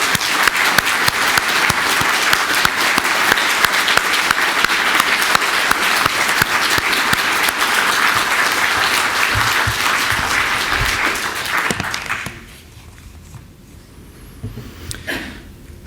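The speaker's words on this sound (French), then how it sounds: "Je vous demande de l'applaudir." Audience applause at a political founding-day speech in France: loud, dense clapping from a large crowd holding steady for about twelve seconds, then cutting off sharply into a quiet hall with a few scattered sounds.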